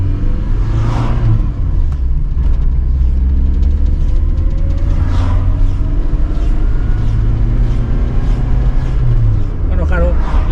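A Citroen BX with a 1400 engine drives along, its engine running in a loud steady rumbling drone inside the cabin, with a few rising surges as it accelerates and shifts.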